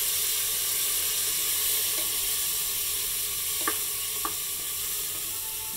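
Chopped tomato is stirred into cracked wheat in a pan, with a steady, loud hiss of frying and steam and a couple of brief spoon knocks near the end.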